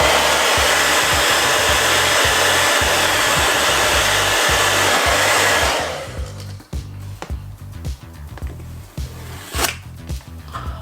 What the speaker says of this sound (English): I ended up trying the hairdryer trick to see if you can warm up the sticker